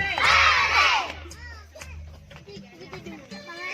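Children at a birthday party shout a loud group cheer together, a burst of massed young voices lasting about a second before dropping to mixed chatter and singing-like voices.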